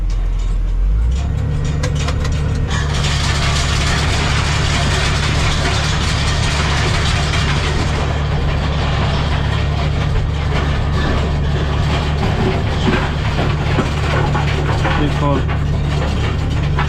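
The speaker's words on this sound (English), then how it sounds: "Decided we're going to give it a second run of the power harrow just to fine it out another little bit." Massey Ferguson MF2725 tractor driving a power harrow across a stony reseeded pasture, a steady loud engine drone with clanking, ratcheting machinery running continuously and close throughout.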